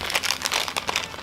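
Plastic packaging crinkles and crackles as it is peeled off the die-cast metal legs of a Soul of Chogokin GX-20 Getter Poseidon toy, a close, steady rustle with several sharper crunches.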